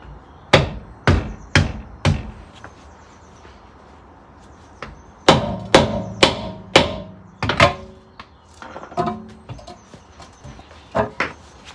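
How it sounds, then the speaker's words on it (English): Heavy copper hide hammer blows thud against a Volvo V70 wheel stuck to its hub in quick bursts of three to five strikes, close and loud, with pauses between groups. "the wheel's stuck to the hub, so I've got to give it a tap from behind just to release it"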